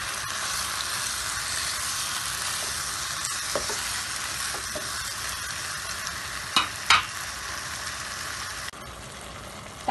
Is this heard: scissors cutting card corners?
no